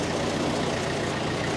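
A tractor with a Schulte mower attached backs up with its engine running, a dense, continuous drone at a constant level across the whole short stretch.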